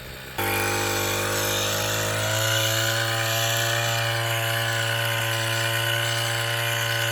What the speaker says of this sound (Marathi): तर अशा प्रकारे फवारणी चालू केली आहे आपण